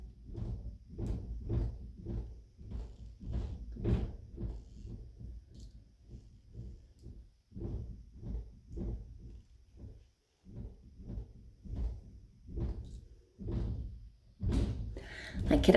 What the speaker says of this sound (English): My kiddos are knocking on the bedroom door.